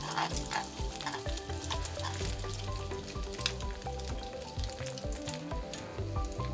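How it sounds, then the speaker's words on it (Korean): Eggs fried in hot oil in a pan and stirred all over before they set, for an egg rice bowl; a loud, steady sizzle and crackle with scraping stir strokes runs throughout, no voices. "익기 전에 전체적으로 휘휘 저어주고"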